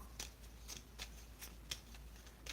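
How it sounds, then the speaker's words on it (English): Soft, papery riffling of cards being shuffled in quick bursts, several short crisp rustles spaced across the clip, fairly faint and close. "Let me get them a quick shuffle, because this is all messed up."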